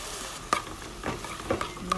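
A spoon stirs spaghetti sauce with cheese in a pan, giving a few soft scraping strokes and faint sizzling across two seconds, close and quiet, with no talk.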